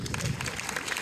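A short burst of applause from a cinema audience at a film premiere at a Gaumont multiplex in Montpellier, full and steady throughout with no voices standing out.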